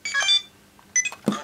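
Dialing on a Kamen Rider Faiz CSM (Complete Selection Modification) belt phone toy, a few short electronic beeps in quick bursts, close and fairly loud, with quiet gaps between key presses.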